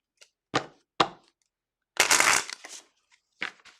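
A tarot deck is shuffled by hand in short bursts, a few crisp card snaps followed by a longer riffling rush and a final brief flutter, close and clear in a quiet room.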